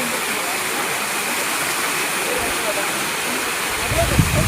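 Muthyala Maduvu waterfall near Bangalore, about 90 feet high, gives off a steady, full rushing roar of falling water throughout, with a low thump close by near the end.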